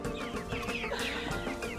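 Chickens clucking on a poultry farm, several birds close by making overlapping irregular clucks over a constant low background hum, no talk.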